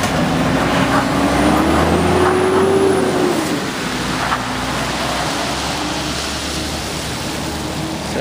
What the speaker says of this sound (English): Oh, a big truck.